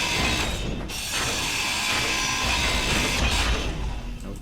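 In Space Engineers, a handheld grinder strips non-essential parts off a landing pod, giving a loud, continuous mechanical whirring and ratcheting grind that holds steady across the whole stretch.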